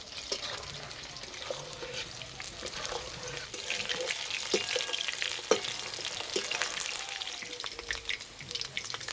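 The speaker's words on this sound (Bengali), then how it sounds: "বেশ একটু লাল লাল করে ভেজে নিতে হবে।" Chicken 65 pieces deep-frying in hot oil until reddish give a dense, steady bubbling sizzle with faint clinks and splashes, close and continuous, growing slightly busier toward the end, no voices.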